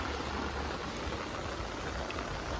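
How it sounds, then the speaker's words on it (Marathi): Rain falls outdoors near a fishing pond, a steady, even hiss with no breaks or other sounds. "पाऊस पण मस्त पडतोय"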